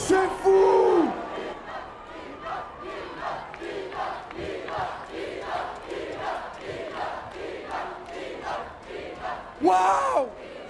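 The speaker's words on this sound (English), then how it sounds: "Et un tonnerre d'applaudissements pour la team Tixi!" A crowd roars and yells with excitement after a Fortnite match, in one long sustained din that swells again near the end. The roar sounds somewhat distant and muffled.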